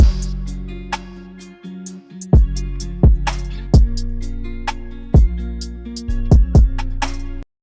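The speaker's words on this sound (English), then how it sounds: "So altogether, the drums and the samples sound like this." A mellow lo-fi beat: soft kick and snare hits in a relaxed pattern over sustained, warm sampled chords, with occasional crisp clicks on top.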